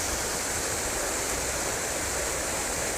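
Steady rushing roar of the waterfall at Loup of Fintry, a broad continuous wash of falling water heard close and unbroken, with no voices.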